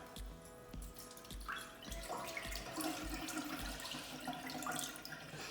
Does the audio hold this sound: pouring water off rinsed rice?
yes